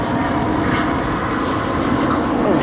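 A police helicopter circles over a major police scene with roadblocks at Beach Blvd and Garden Grove Blvd, its steady rotor and engine drone loud and constant throughout with no talk.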